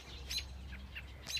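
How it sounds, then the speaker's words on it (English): Small birds chirping around a nest, faint high tweets in short bursts repeated a few times over a quiet outdoor background. "Dude, there's so many birds."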